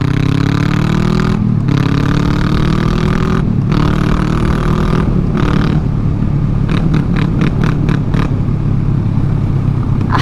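Loud, raw Honda Rebel 500 engine running steadily with the muffler removed, a harsh, unmuffled rumble somewhat like a dirt bike, shifting pitch as it accelerates, with brief dropouts and rapid popping toward the end.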